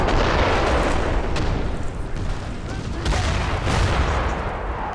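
Cannon artillery booms and gunfire in the video game Napoleon Total War form a dense, continuous rumble of battle with repeated bangs throughout, loud and sustained.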